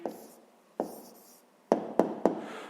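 Pen or pencil strokes on paper as a math answer is written out by hand, several short scratchy bursts with sharp taps and pauses between, close and quiet with no talking.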